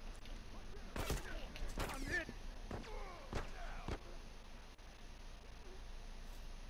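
Gunfire in the video game The Last of Us comes as several sharp, separate shots spaced out over a few seconds against a steady background hum, with voices talking.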